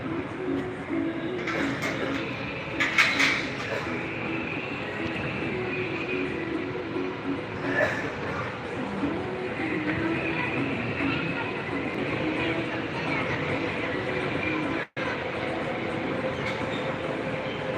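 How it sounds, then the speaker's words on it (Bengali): Small amusement park ride train emerging from a tunnel at Keraniganj's Sharif Melamine Park, a continuous rumbling roll with clattering wheels at moderate distance, accompanied by people talking nearby. "গুহা ভিতর থেকে ট্রেন বেরোচ্ছে"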